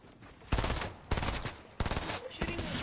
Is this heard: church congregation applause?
no